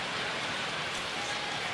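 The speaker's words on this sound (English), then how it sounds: "Rain today in Philadelphia" Steady rain falls at a Phillies–Cubs baseball game in Philadelphia, a dense, even hiss of drops covering the whole span with no clear voices.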